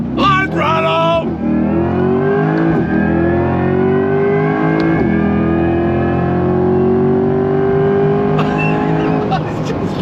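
A Chevrolet Corvette C8 E-Ray hybrid all-wheel-drive sports car accelerates hard on throttle, its engine note climbing steadily in pitch for several seconds, loud and close, with a brief shift-like dip partway through.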